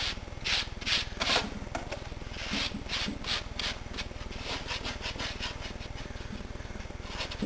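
Soft, repeated brushing strokes sweep sanding dust across a surface while building an electric guitar, a steady scratchy rubbing with a few louder swipes near the start.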